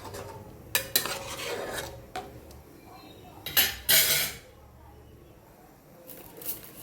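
A spoon scrapes and clinks against a metal pot as food is stirred, in a few irregular bursts of clatter with quieter stretches between.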